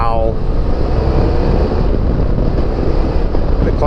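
Rider on a BMW F 800 GS motorcycle, with steady, loud wind buffeting the microphone throughout and engine drone underneath, no clear voice.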